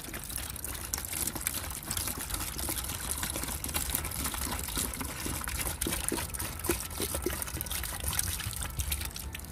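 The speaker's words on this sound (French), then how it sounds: "Là vous mettez 3 litres d'eau." Water pouring steadily into a bucket to mix with car shampoo for washing an Audi A8, a continuous close splashing trickle with no talk.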